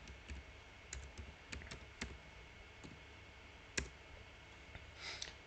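Keyboard keys clicking in scattered, irregular taps while a SQL command is typed on a computer, faint and close with no voice over it.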